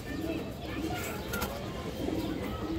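Low cooing from pigeons, including a male, repeats every second or so through steady background noise, moderately close, with a voice faintly present.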